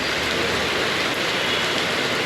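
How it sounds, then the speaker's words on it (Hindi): Heavy rain drums steadily on a parked car during a downpour in Kashmir, a dense, continuous hiss and patter close by with no voices. "ये देख सकते हैं आप, पूरी बारिश आई है एकदम।"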